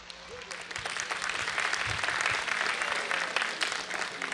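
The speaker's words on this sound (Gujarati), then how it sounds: "જોરદાર તાળીઓ સાથે." A school annual function audience in Upleta gives sustained, dense applause that swells and holds steady, many hands clapping together in a large hall, with faint voices mixed in.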